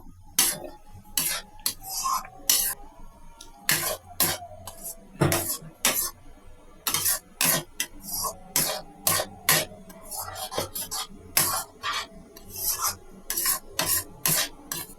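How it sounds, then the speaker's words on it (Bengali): A spoon scrapes and stirs semolina halwa in a pan after the lid comes off, giving repeated close, rhythmic rasping strokes with brief pauses between them. "এবার ঢাকনা খুলে আমরা ভালো করে নেড়ে নেবো"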